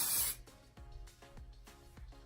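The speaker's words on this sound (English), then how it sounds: "My favorite, Kenra Platinum Dry Texture Spray." Kenra Platinum Dry Texture Spray, the number 6 aerosol, gives a short sharp hiss onto hair, followed by faint soft taps in a quiet room.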